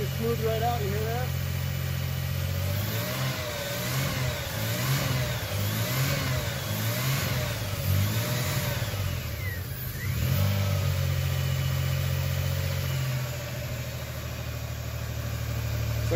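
A Toyota 4Runner engine, once nursed back to life on fuel vapor and still carrying a slight misfire, revs up and down in repeated swells before settling back toward idle, with people talking over it.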